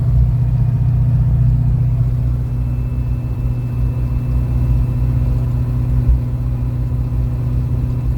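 A Saleen Foxbody with a 427 Windsor V8 and Jones Full Boar straight-through exhaust cruising at highway speed, heard from inside the car as a steady, loud low drone and rumble that holds evenly throughout.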